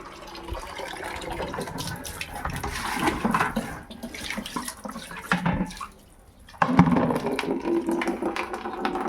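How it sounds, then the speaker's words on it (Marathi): Water running from a household tap, a steady rushing splash that drops out briefly and then returns louder. "आता नळाला पाणी पण आलं"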